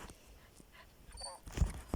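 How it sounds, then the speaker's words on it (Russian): A dog whimpers in the horror video game Метель, with a few soft, high whines in the middle, low thumps of game sound around them, and faint background noise. "Он так скулит, бедняжка."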